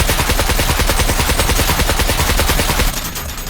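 Automatic gunfire in the video game Scum as a player shoots at a car, a rapid sustained burst of loud shots that cuts off near the end.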